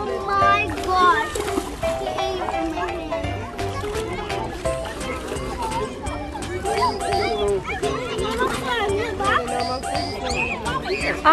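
Dogs swimming in the sea at a beach and splashing through the water, heard among lively chatter from children and adults close by.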